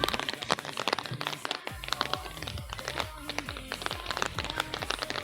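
Rain falls on a makeshift roof, giving a dense, continuous pattering of close drops with scattered sharper taps, while people speak faintly underneath.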